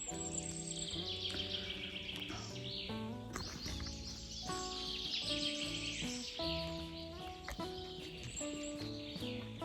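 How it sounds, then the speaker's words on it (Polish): Birds chirp and tweet steadily over a bright, layered background of tonal sound, with calls overlapping throughout, on the Wielka Kopa summit in the Rudawy Janowickie mountains, Poland. "Cisza, spokój ptaszki poćwierkują"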